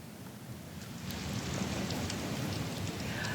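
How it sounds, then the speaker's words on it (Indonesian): Heavy rain pouring down in Jakarta, a steady broadband hiss of drops on surfaces that swells slightly after the first second and holds at a constant level with no voices. "hujan yang mengguyur DKI Jakarta membuat kenaikan debit air di pintu air Manggarai"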